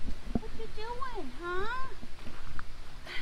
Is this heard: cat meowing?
yes